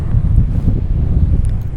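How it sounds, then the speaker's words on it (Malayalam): Wind at Piazza Navona in Rome buffets the microphone with a steady, low rumbling roar for a couple of seconds, with no voices. "നല്ല കാറ്റ്."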